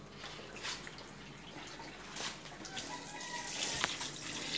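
Leftover condensed water draining out of the bottom of a barrel used for steam-melting wax, a continuous watery trickling and dripping wash with small splashes that builds slightly louder toward the end.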